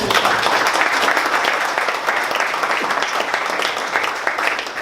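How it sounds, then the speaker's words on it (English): Steady round of applause from a forum audience welcoming a panelist at a Miami Beach sea level rise event, loud at first and tapering slightly over several seconds. "So if you can just give him a round of applause."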